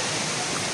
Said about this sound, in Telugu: మాకైతే ఇదే వాటర్ ఫాల్